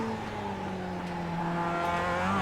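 An engine tone slides down steadily and holds smooth and continuous as a Mazda MX-5 Cup race car brakes on the Charlotte Motor Speedway Roval in iRacing, loud and alone without talk.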